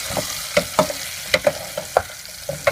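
Baby potatoes sautéing in a pan on a portable gas stove, with a steady low sizzle broken by a series of sharp scraping stir clicks, close and fairly loud, with no talking.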